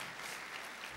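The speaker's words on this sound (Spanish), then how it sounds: "Yo quisiera pedirles que le dieran un aplauso a todos estos hombres" Dense, steady applause from an audience at a national ministerial meeting in Mexico fills a brief moment without a break, with no voices rising above it.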